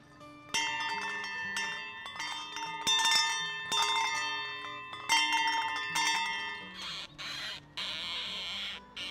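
Church bells of St. Mary's ring out in a dense, clanging pattern of repeated metallic strikes with long ringing overtones, loud and continuous with a few brief pauses.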